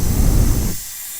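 A GOOLOO F1 compressed air gun blower whooshes with a loud, airy hiss at high RPM for under a second, then drops sharply to a quieter steady hum.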